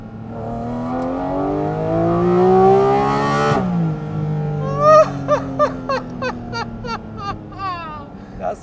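A Porsche Cayman GT4 RS with Manthey Racing Kit revs hard, its engine note climbing to a shrieking peak near 9000 rpm, then cutting off into a burst of sharp, rapid pops and crackles.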